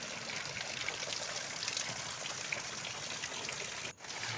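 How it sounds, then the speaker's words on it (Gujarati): Heavy monsoon rain pours down steadily outdoors, a dense, loud, unbroken hiss and patter that fills the whole stretch, dipping briefly near the end before resuming. "કેવો વરસાદ છે જુઓ મિત્રો"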